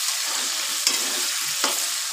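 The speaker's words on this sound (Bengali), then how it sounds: "তো এখানে আলু ভাজা বসিয়েছি" Potatoes fry in a pan with a continuous soft sizzle, broken by a couple of brief scraping stirs.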